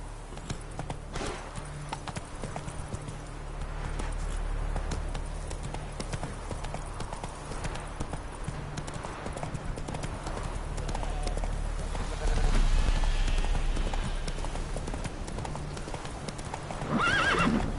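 Geralt's horse Roach from The Witcher 3 clip-clops steadily on hooves with a whinny, hoof beats continuing through the whole stretch at moderate volume with faint background ambience.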